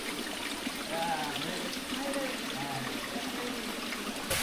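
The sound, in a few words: waterfall flowing into a pool in Taman Negara rainforest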